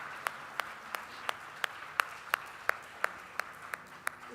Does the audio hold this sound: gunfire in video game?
no